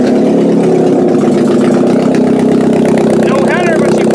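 Demolition derby car running without a header, engine catching and settling into a loud, rough, steady idle up close, with a voice speaking over it.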